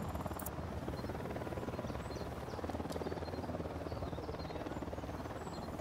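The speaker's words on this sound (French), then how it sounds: "L'hélico, il est où?" Steady, continuous rotor drone of a helicopter in the Ghost Recon Wildlands video game, a low buzzing hum holding at an even level throughout with no talk over it.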